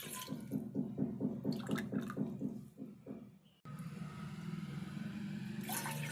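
Water is poured into a pot for making tea, first as a rhythmic glugging for a few seconds and then as a steady, close splashing stream.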